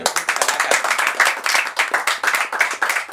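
An audience claps loudly and rhythmically at a Gujarati film event for the movie Kamthaan, a close, continuous burst of hand claps with no talk over it.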